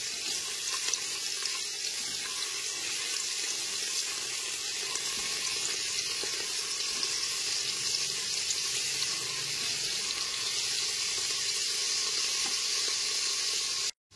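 Chopped onion frying in oil over a medium gas flame, a steady even sizzle and hiss that holds unbroken and fairly close for the whole stretch, ending abruptly.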